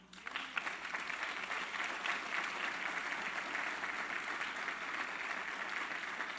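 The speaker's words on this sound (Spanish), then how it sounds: "¿Le quiere dar un aplauso al Señor?" Sustained applause from a church congregation during a Spanish-language sermon, a dense steady wash of many hands clapping at even loudness with no talk over it.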